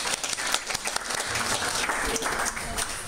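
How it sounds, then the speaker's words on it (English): A round of applause for whiskey tasters at a Jameson distillery tasting: a small group claps loudly and closely, with crisp individual claps and a few voices underneath. "Again, a round of applause, please, for the tasters."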